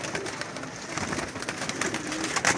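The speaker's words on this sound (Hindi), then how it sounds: "फिरोजपुरिया कबूतर देखें।" Ferozpuri pigeons at a bird keeper's loft in Lahore, giving soft cooing amid a dense, noisy outdoor background of fluttering and rustling, fairly faint and continuous.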